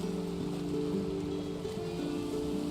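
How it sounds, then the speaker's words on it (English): Steady storm rain from a video game, a dense, even hiss of rainfall with sustained tonal hum underneath, continuous and moderately loud throughout. "The storm? Oh yeah, the storm."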